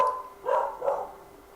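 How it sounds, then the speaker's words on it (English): A dog gives two quick barks at a distance, short and fairly faint against a quiet background. "Barking."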